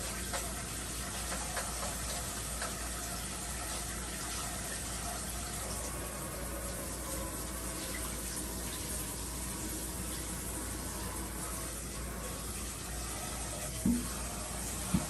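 Steady running water from a tap hisses continuously at moderate distance while grits are rinsed, with a couple of small clicks near the end and no talking.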